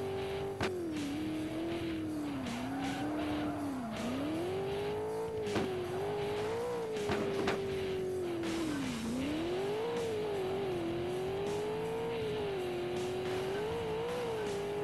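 A car engine in a racing video game revs hard, its pitch climbing and dipping again and again through gear changes, with occasional tire squeals and knocks, loud and continuous, with no voices.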